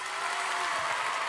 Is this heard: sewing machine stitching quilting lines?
no